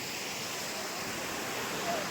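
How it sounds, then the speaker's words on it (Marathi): Rushing water from a waterfall beside a glass bridge, a dense, even roar filling the whole moment without pause, heard from nearby. "पाण्याचा तुम्हाला आवाज येतच असेल, किती पाण्याचा आवाज एकदम खळखळाट."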